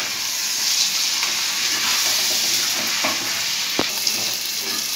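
Jungli chicken with dried red chillies frying in a pan, a loud, steady, close sizzle with a few light scrapes as the pieces are stirred, and one sharp knock near the end; no voices.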